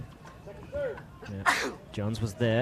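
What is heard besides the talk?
sneeze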